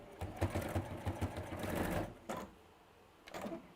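A sewing machine stitches a seam on a fabric toy, running in a close, rhythmic whirring burst for about two seconds, then stopping before a brief final run, with no talking.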